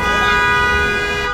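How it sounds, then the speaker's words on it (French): Car horns blare continuously across a city during celebrations at a football fan zone in Koumassi, Abidjan, after Côte d'Ivoire's qualification: a loud, steady tonal wail of horns held without a break. "on entend des klaxons dans toute la ville."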